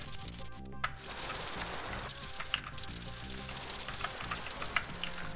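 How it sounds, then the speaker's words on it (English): Crackling, bacon-like sizzle from the video game Heretic, a steady hissing texture with scattered sharp pops, set over a droning low musical background. "Sounded like bacon sizzling."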